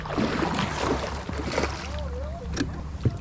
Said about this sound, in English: I love when boats are coming through making this much wake